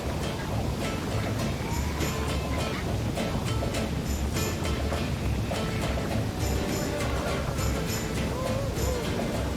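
A tour boat at full speed drives into the thundering curtain of Iguazu Falls in Argentina, with a dense, loud roar of crashing water and spray filling the scene, and faint voices rising within it.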